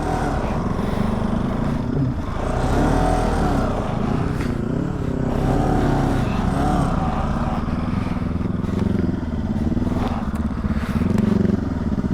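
Motorcycle engine running steadily through the night in a forest, a loud continuous rumble with rough revving swells and occasional scraping clatter, close by and with no talk over it.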